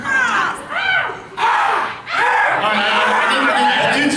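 A man screams and squawks in a harsh imitation of a crow, a few rising cawing bursts in quick succession, close and loud, with laughter and chatter from a panel audience.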